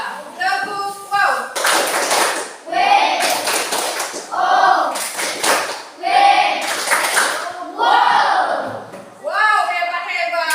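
Children in a classroom doing a rhythmic clap chant, bursts of hand claps alternating with a voice leading and the group chanting along, close and lively.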